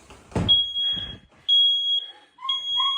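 Smoke alarm beeping in the middle of the night, sharp high tones repeating in short bursts, with muffled voices speaking between the beeps.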